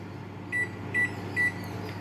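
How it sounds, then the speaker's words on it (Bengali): A convection microwave oven set to 180 degrees hums steadily with its fan running, a low continuous drone broken by three short, evenly spaced electronic beeps. "দেখো ওভেনে একটা আওয়াজ সেই জন্য হচ্ছে ওই পাখাটা"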